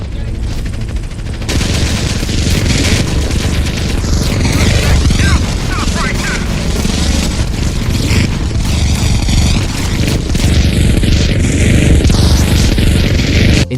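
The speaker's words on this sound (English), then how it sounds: "The muzzle flashes, smoke, and explosions are way more violent and cinematic." Dense, continuous gunfire and repeated explosions from GTA San Andreas running a visual effects mod, loud and chaotic throughout with rapid bursts layered over booming blasts and no pause.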